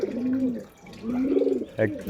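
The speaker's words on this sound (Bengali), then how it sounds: "খুব সুন্দর কোয়ালিটির পায়রা আছে" Domestic pigeons coo close by in two long rolling calls, followed by a brief scuffle or flutter at the end, with no speech.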